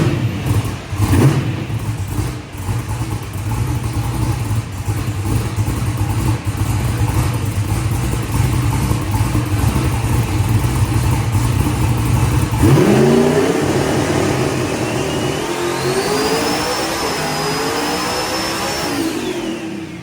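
A turbocharged small block Ford engine in a ProMod car runs hard on a dyno, holding a loud steady drone near 4,600 RPM before climbing into a rising, whining rev with turbo spool.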